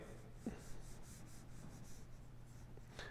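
Markers glide lightly across paper in soft, close rubbing strokes, moving in quick, loose passes with small squeaks and brief pauses between movements.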